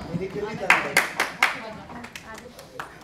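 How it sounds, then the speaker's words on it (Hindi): A handful of sharp, separate hand claps from an audience at a Punjabi music program, irregular and fairly close, fading into sparse scattered claps under quiet talk. "आप सबकी तालियों में"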